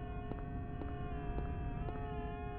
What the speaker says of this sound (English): Oh, that's just the siren, man.